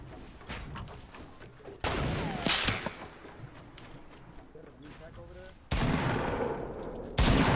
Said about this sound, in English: Who y'all shooting at?